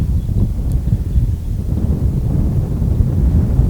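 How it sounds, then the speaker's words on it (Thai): Strong wind buffets the microphone on a cold mountain viewpoint facing Doi Luang Chiang Dao, a steady low roaring rumble with gusty fluctuations throughout and no voices. "ลมแรงแล้วก็อากาศเย็นมาก"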